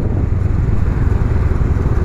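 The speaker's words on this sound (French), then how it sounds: "La sonorité est plutôt sympa, c'est assez rock comparé à la mienne de moto" A Honda Rebel 500 CMX motorcycle engine rumbles at steady idle, loud and close, a deep continuous throb with no speech.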